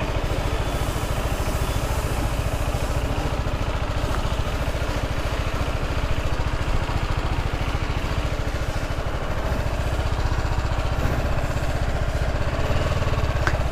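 Steady, even exhaust drone from a running TVS Apache RR310 motorcycle engine, a continuous mid-pitched rumble held close and fairly loud with no clear revving changes.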